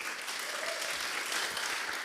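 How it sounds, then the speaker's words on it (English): A conference crowd claps steadily throughout, a dense patter of applause filling the short stretch with no pauses. "a big round of applause for all of our conference organizers"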